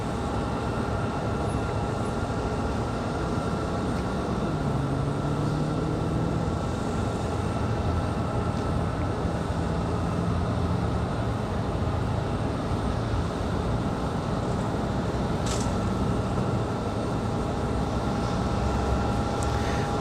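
A JetBlue airliner departs Raleigh-Durham for JFK, its engines a sustained, even roar with a faint rising whine, steady and moderately loud throughout, no voices.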